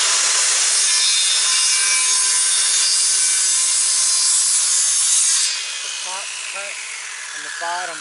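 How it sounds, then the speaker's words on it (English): A Wood-Mizer LT15 sawmill blade cuts a series of cuts through lumber, a loud continuous high whine that drops off partway as the blade exits, with a voice speaking over the end. "Now all we're going to do is just cut a series of cuts through this"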